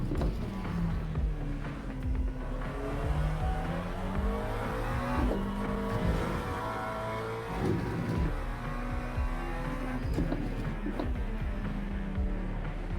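Race car engine in a racing simulator during a hot lap on warm tires, continuously revving up and down through gear changes with occasional tire noise, loud and steady throughout with no talk.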